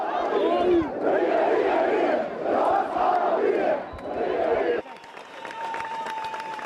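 A large funeral crowd in Jerusalem chants rhythmically in loud, repeated voiced phrases, then quieter crowd noise and a faint tone follow near the end.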